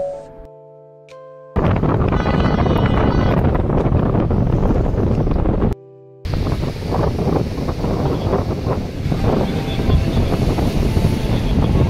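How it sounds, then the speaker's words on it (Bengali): Strong gusty wind roars across the microphone with a broad wash of sea surf beneath it at Shankarpur beach, loud and steady, with two brief drops near the start. "ভীষণ সুন্দর হাওয়া দিচ্ছিল, সমুদ্রে গর্জন হচ্ছিল"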